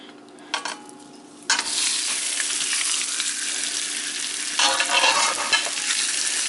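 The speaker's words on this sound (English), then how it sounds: "So now that the oil is heated up, what we're going to do now is we're going to put the meat in there." Beef dropped into hot oil bursts into loud sizzling after a few soft clatters, with the frying hiss holding steady and swelling again as the meat is moved around the pan.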